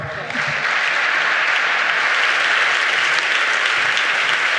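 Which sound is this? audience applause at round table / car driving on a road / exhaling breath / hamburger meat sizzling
audience applause at round table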